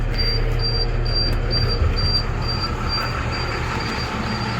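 A converted school bus, an RV conversion with 116,000 miles, builds air pressure after starting, a steady close mechanical drone with a regularly pulsing high hiss or whine throughout, no talk.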